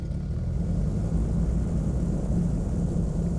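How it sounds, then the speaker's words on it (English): A light aircraft's engine runs in the flight simulator game Flight Sim World, a steady, loud, droning rumble with a constant low hum that holds without a break throughout. "we're going to go ahead and start our engine"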